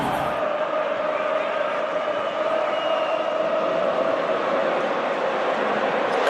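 Stadium crowd at a 2006 World Cup football match in Germany, a steady, loud roar of massed voices swelling continuously with no break.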